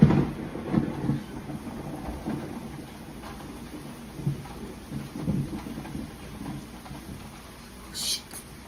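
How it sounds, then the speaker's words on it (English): A thunderstorm rolls on with steady rain and repeated low rumbles of thunder swelling and fading, loudest at the start and again midway, with a faint voice in the background. "More thunder and lightning."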